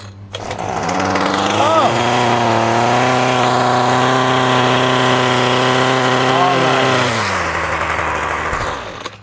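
A small gasoline two-stroke engine fires up after a hard start on full choke and runs at a steady, loud buzzing drone for several seconds before it winds down and cuts out near the end.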